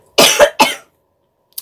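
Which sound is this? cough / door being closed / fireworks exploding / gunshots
cough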